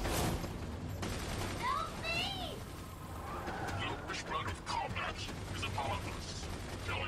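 Rapid machine gun fire rattles on and off in Tales from the Borderlands, mixed with mechanical clatter and game voices, fairly loud and steady throughout.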